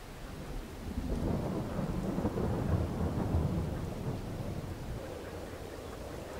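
Rain falls with a deep rolling rumble of thunder in Farming Simulator 22, a steady, fairly loud wash of downpour with low booming swelling in the middle and easing toward the end, no voices.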